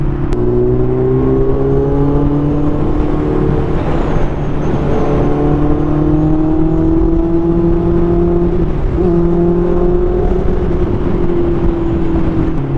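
A Honda CB650R four-cylinder motorcycle engine revs high while riding, its whining note rising and holding through the gears, loud and close with wind and road noise beneath.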